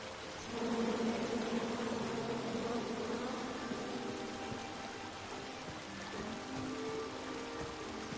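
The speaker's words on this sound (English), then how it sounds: "Come at me, bees!" A swarm of bees buzzing in the King's Quest video game forest, a dense continuous drone that swells in after a moment and holds steady, fairly close, with no voices.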